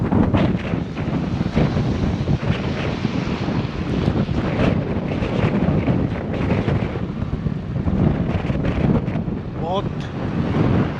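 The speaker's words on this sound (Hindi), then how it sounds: "बारिश हो रही है और बहुत तेज़ हवा चल रही है" Strong wind roars outdoors in a steady, loud, continuous rush with broadband buffeting against the microphone, rain likely mixed into the wash of noise, no clear voices.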